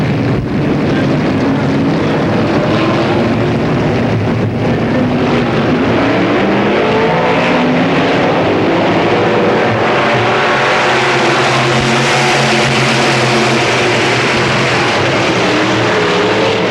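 Race cars roar past on an oval track at a 1994 PPMS regular show, engines loud and sustained with rising and falling pitch as they pass, wind noise over the microphone.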